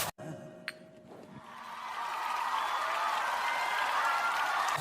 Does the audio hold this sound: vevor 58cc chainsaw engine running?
no